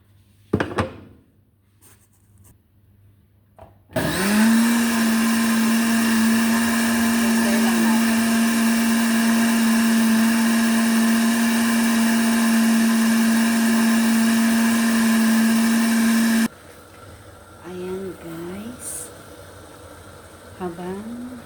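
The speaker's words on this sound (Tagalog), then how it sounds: "Habang nag-blender" A blender runs steadily for about twelve seconds, whirring loud and close as it mixes flour, water and coconut for Muhallah Arabic bread, with quieter kitchen handling before and after.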